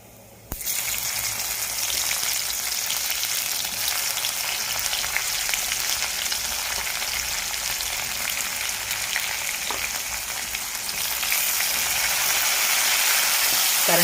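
Mustard seeds crackle and sizzle in hot oil for a dal tempering. The loud, continuous frying hiss bursts in after a brief quiet moment and carries on steadily to the end.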